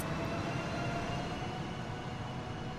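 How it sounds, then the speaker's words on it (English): An electric bullet train in the video game Transport Fever moves slowly, producing a steady broadband rumble and whoosh with a faint tonal whine, constant and unbroken with no voices. "the bullet train creeping forward there"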